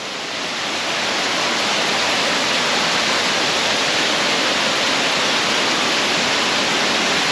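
Shenggaokeng waterfall, a roadside falls in Shenkeng District, New Taipei, pours with a dense, steady roar. The rushing noise swells in during the first second and then holds loud and unbroken, with no voices.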